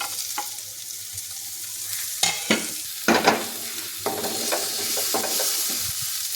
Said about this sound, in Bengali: ভালো করে নেড়ে নেব, ভালো করে ভেজে নেব